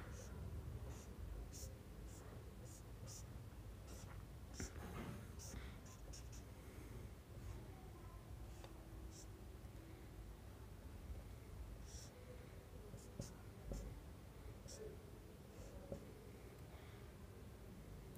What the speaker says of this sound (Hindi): एक और लिख रहा हूँ मैं